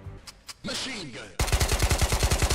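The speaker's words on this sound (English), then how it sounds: "Machine gun." Rapid machine gun fire in the video game Ghosts of Tabor, a loud, steady burst of evenly spaced shots that starts abruptly after a moment of quieter game ambience with a brief voice.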